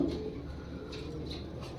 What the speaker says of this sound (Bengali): এগুলি হান্ড্রেড পারসেন্ট রেসার কবুতর